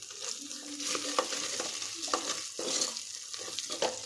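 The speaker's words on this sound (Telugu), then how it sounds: "ఆయిల్ వేసి, ఆనియన్ వేసి, కొంచెం అల్లం, పుదీనా, కరివేపాకు, ఆనియన్ వేసి ఇలా మిక్స్ చేస్తున్నాను ఫ్రెండ్స్." Onions, ginger, mint and curry leaves frying in oil while being stirred in a pan, a steady close sizzle broken by scraping and stirring strokes.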